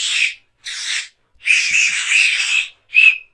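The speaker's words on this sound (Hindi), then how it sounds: "बज रही है थम्स अप वाली सीटी" A small plastic toy Thums Up whistle from a snack pack is blown in separate bursts, some short and one longer, close and fairly loud, with shrill airy tones and brief silences between blows.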